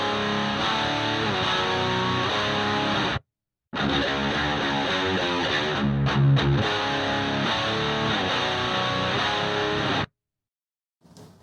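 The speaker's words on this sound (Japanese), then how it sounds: "じゃあこれをフェンダーのツインリバーブの IR に変えてみます。" Heavily distorted electric guitar played through a Fender Twin Reverb impulse response, a dense chugging metal riff in two loud passages, each ending in a sudden stop and a brief silence.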